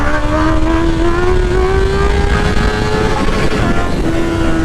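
A Honda CBR650R motorcycle engine holds a steady, loud drone during a wheelie on a road, the pitch rising slightly and evenly, then dipping near the end, with wind rush underneath and no talk.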